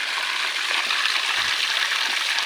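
Water flowing in a farm stream, a steady even hiss of running water close by, heard alone.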